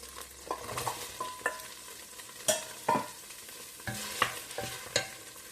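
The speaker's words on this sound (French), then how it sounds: "je vais faire revenir l'oignon" Chopped onion sautéing in olive oil in a pan for a turkey osso buco, with a quiet, soft sizzle broken by a string of sharp spatula scrapes and clinks at an irregular pace, no voices.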